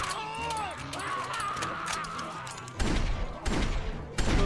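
Several loud, close gunshots ring out in The Walking Dead Season 2 video game, spaced irregularly over tense background sound, while a player's voice talks over parts of it.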